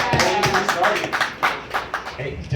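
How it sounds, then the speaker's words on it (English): A small audience applauds a woman named Quanda, with a fairly quick run of claps mixed with cheering voices and talk close by. "Give Quanda a round of applause."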